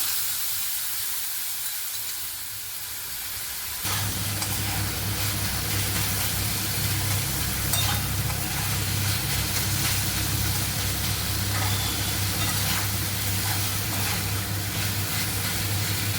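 A steady, loud sizzling hiss of pointed gourd and raisin curry frying in a pan after yogurt is added starts after a few quiet seconds and continues unbroken over a low hum.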